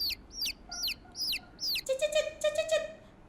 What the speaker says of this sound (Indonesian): Kayaknya ada suara anak ayam deh.